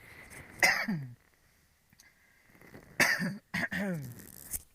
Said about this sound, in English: I'm going to cough a bit.